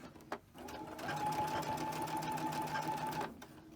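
Sewing machine stitching through pinned fabric, a steady mechanical whirring hum of about three seconds that starts after a brief knock and stops cleanly, close and fairly quiet.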